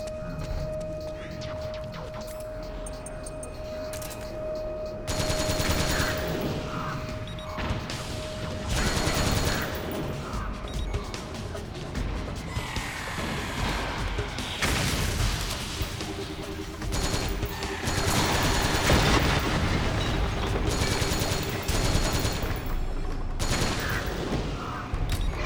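Sustained gunfire in Metal Gear Solid 4: Guns of the Patriots comes in repeated bursts and clusters of shots over a long stretch, loud and dense throughout, with occasional brief pauses between volleys.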